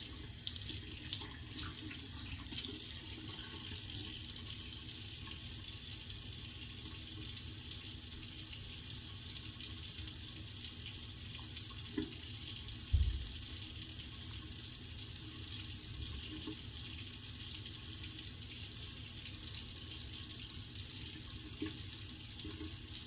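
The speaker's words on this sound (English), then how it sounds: "Sorry, I just realized I let that water run in." Water runs steadily from a tap into a sink with a constant broadband hiss for the whole stretch, with one soft knock midway.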